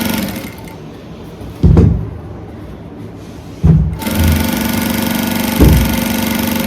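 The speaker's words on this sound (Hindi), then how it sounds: "बिल्कुल सीधी सीधी सिलाई लगानी है। कहीं से मशीन उठाने की जरूरत नहीं है।" A sewing machine stitches a dress made from a saree, its motor whirring in short runs with soft thumps, then settling into a steady, close hum.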